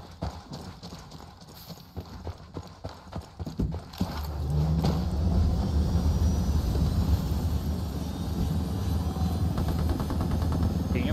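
Helicopter in the Ghost Recon Wildlands video game, a loud steady rotor drone that rises and holds after a few seconds of rhythmic thumping, with faint talk underneath.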